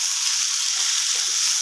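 Parboiled potatoes fry in a pan, a steady close hissing sizzle with no breaks or voices across the short stretch.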